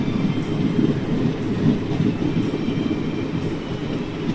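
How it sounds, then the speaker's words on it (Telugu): A passenger train running from Vijayawada toward Rajahmundry on the Howrah main line rumbles steadily and loudly throughout, with a continuous low roar of wheels and carriages and no voices. "ఇప్పుడు మన ట్రైన్ వెళ్ళేది మెయిన్ లైన్, ఇది అటు హౌరా మెయిన్ లైన్."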